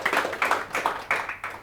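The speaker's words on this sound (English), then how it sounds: "So I think only for that it deserves like a clap." An audience at a Vue.js Israel tech meetup claps briefly, a short run of sharp hand claps at close range, over in under two seconds.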